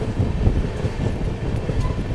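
The Okha Veraval Express runs on its rails with a steady, loud, close rumble and rattle from inside the moving train, a faint clickety-clack running through it and no talk.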